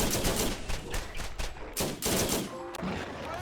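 Turret gunfire in the video game Borderlands crackles in rapid repeated bursts, loud and close, with short gaps between volleys.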